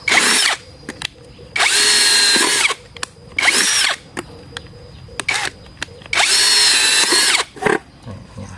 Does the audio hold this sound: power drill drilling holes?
yes